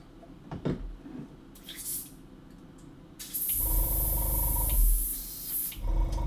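An airbrush fed by a compressor sprays paint in a steady loud hiss that starts partway through and runs for about three seconds, after earlier faint clicks and short bursts.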